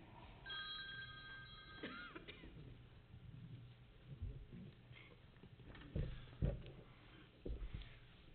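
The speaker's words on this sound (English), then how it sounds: "And the phone rings." A telephone rings briefly during a Putnam County, Tennessee commission meeting, a short electronic ringing tone heard near the start over quiet room noise and shuffling.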